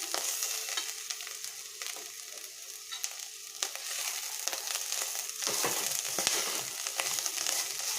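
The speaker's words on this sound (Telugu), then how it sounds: "ఇది హైలో పెట్టకుండా మీడియం ఫ్లేమ్లో ఫ్రై చేసుకుంటే ఈక్వల్గా వేగుతుందండి." Bitter gourd pieces fry with onions and curry leaves over a medium flame, giving a close, crackling sizzle with irregular pops and occasional stirring scrapes, fairly quiet and steady.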